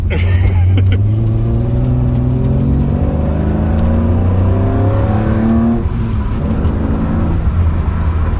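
A BMW S50 engine in an E36 M3 runs steadily at close range, a smooth inline-six hum with a brief rise in revs, loud and continuous.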